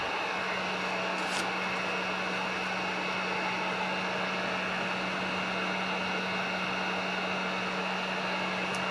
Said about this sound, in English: if you heat it up with the heat gun first